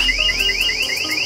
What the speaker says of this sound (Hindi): अगर आपकी कार लॉक्ड है और कोई खोलने की कोशिश करता है तो फिर इसका एंटी थेफ्ट अलार्म